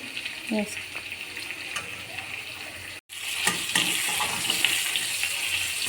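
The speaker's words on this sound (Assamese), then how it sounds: "এয়া মোৰ মাংসখিনি ফ্ৰাই হৈ গ'ল।" Chicken meat frying in a small amount of oil with a steady, bright sizzle that briefly cuts out and then returns louder, with faint stirring clatter.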